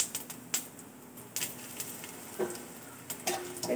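Bay leaf, whole cumin and halved dried red chillies sizzle in hot oil in a pan, with a steady faint frying hiss and a few sharp scraping stirs and crackles scattered through it.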